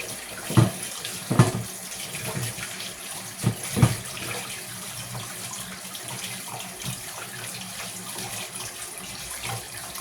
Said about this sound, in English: I'm just washing my hands off, getting some flour off my hands.